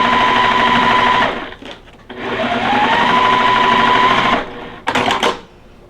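A sewing machine stitches quilt block pieces in two long, steady, loud runs of close mechanical whirring, separated by a short pause, with a few brief clicks at the end.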